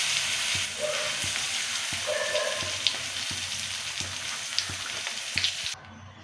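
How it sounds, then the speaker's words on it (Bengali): Eggplant pieces fry in hot oil with turmeric, a close, steady sizzle with occasional soft clicks and stirring knocks, ending abruptly. "প্রথম আমি বেগুনটা ভেজে নিচ্ছি।"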